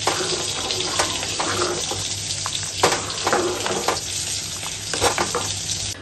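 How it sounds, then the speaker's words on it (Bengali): Cashews frying in a pan are stirred close up, with a continuous sizzle broken by scraping and clattering from the stirring spoon, and no one talking. "আর দেব কাজু, ভালো করে এটাকে নাড়বো।"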